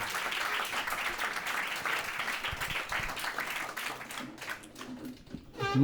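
An audience applauds in a steady, dense patter for several seconds before the clapping thins out and a voice briefly cuts in at the end.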